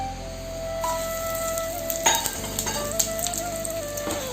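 Whole red chillies, jakhiya, cumin and asafoetida hit hot oil in a pan and sizzle steadily, with a few clinks and stirring scrapes partway through, close up and with no talking.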